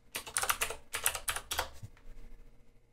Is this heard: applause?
no